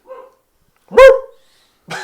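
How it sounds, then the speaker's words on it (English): A dog barks: a faint short yip, then one loud close bark, then the start of another bark, with silence between them. "That's a dog. It's a dog."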